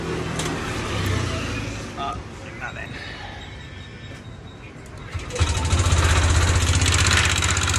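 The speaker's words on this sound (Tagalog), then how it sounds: "May lumalagitik sa makina." A Yamaha Aerox 155 scooter engine runs close by with a rapid mechanical ticking in its idle, the rattle growing louder and busier toward the end.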